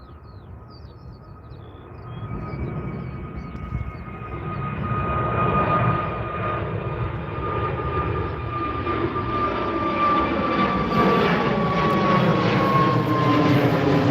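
An Azerbaijan Airlines airliner passes at London Gatwick airport, its jet engine roar building steadily from a faint start into a loud, sustained rumble with a whining tone that slowly falls in pitch as it goes by.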